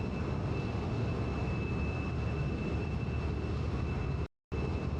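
Eagle aircraft engine droning in flight in a video game, a loud continuous roar with a steady high whine, briefly cutting to silence for a moment near the end before resuming.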